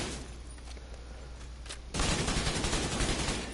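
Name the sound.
gunfire from the video game The Division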